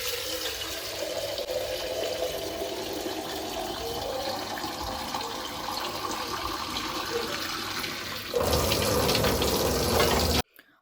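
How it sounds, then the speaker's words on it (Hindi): Tap water runs steadily into a sink while fruit is washed, a continuous splashing hiss that suddenly grows louder near the end before stopping abruptly. "जो फल थे वो लाए हैं धुलने के लिए, सब धुल के रख देंगे"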